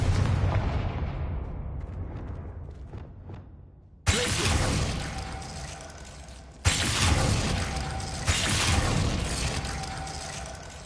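Confringo fire spell explosions from Hogwarts Legacy: two sudden loud booming blasts a few seconds apart, each followed by a roaring, crackling sustain, after an earlier explosion fades away.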